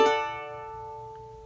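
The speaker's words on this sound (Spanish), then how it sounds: "Hacemos un arpegio, tocamos cuarta, segunda y primera cuerda." A single charango arpeggio across the fourth, second and first strings, one quick plucked onset ringing out and slowly decaying, close and alone.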